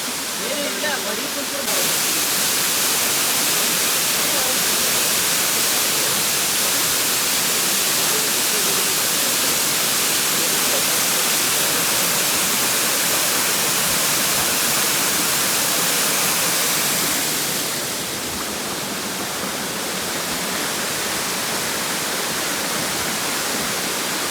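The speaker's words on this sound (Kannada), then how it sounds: "ವಾಟರ್ ಫಾಲ್ಸ್ ಬಂತು." Kulimagodu waterfall near Yellapur roars as a loud, dense, unbroken rush of falling water that stays steady for the whole stretch and eases slightly toward the end.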